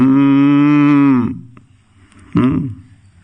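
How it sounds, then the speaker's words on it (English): Cows lowing together in a loud, sustained moo lasting over a second, followed after a short pause by a second, shorter moo close by. "the cows are looking at Gaur Sundar. They thought this was Sham Sundar. They all started doing hunkar"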